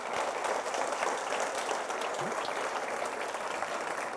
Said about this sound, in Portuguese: Vamos dar um aplauso a Jesus por isso